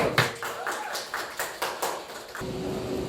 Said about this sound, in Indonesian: Berikan aplaus.